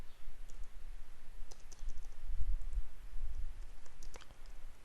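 A computer mouse gives a few sharp, quiet clicks, scattered singly and in small pairs over a low steady background hum, with no talk.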